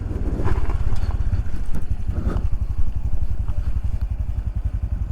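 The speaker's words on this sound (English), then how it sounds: "He's ripping around with his KLR." A Kawasaki KLR 650 motorcycle rides past on a road near the Great Smoky Mountains, its single-cylinder engine a steady, loud low thumping that swells slightly as it passes, with no talking.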